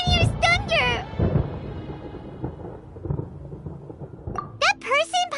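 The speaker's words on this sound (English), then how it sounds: "Paimon hears thunder!" Rumbling thunder in the Genshin Impact video game, a low broadband roll that swells and fades in the middle, with chirpy high game voices or effects at the start and end.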